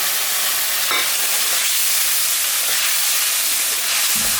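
Poppy seed paste with green and dried chillies frying in a pan, a steady broadband sizzle and hiss with faint stirring scrapes, close and continuous with no talk.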